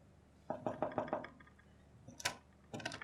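Someone knocks on a closed door in a Pakistani drama, a quick run of five or six close raps, then a single sharp knock and another short cluster of raps, with no speech over them.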